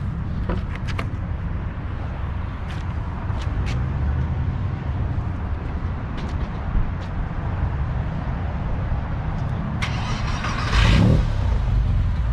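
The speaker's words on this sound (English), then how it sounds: "Why don't you fire it up, Tommy? Let's hear that exhaust." A warmed-up 2000 Porsche with a six-speed and JE and Schrick engine upgrades idles with a steady, close exhaust rumble, followed by a brief louder rev near the end.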